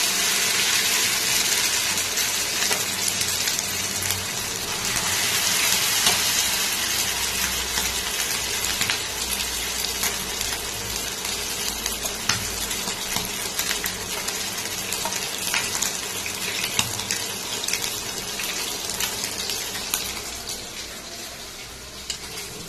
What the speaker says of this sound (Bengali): এখানে গাইস এরকম পুরো একদম রেড করে ভেজে নিয়েছি বড়াগুলো